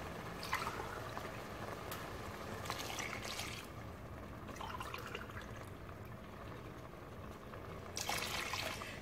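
Water pours from cups into a pot for kiwi jam, coming in a few short splashing bursts with quieter trickling between, close and fairly soft.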